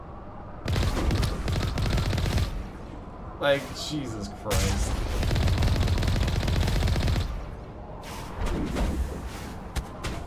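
Gunfire in the video game Mass Effect 1, rapid bursts of automatic weapon fire in two long stretches with a brief gap, loud and close, while a player exclaims briefly between the volleys.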